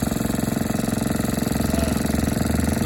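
A small single-cylinder Rio engine from a 1947 Rio reel mower idles steadily and close by at a tractor show, with a rapid, even chugging pulse throughout and no talking.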